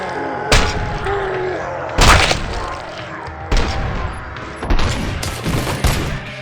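Gunfire in the RoboCop: Rogue City video game comes as loud bursts of shots and heavy booms, about five strong volleys spaced a second or so apart over a busy battle din.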